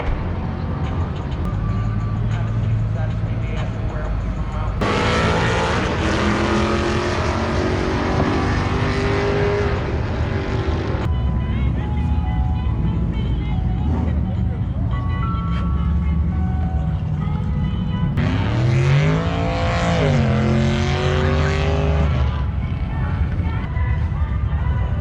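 A drag racing event where a truck and other cars pull off the line in pairs, with loud engines revving and roaring past, rising pitch sweeps of hard acceleration, and crowd or voices mixed into the continuous noise.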